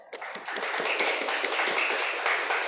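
Audience applause at a relaxed literary talk-show event with a writer, a fairly steady patter of many hands clapping at moderate volume, sustained after a brief start.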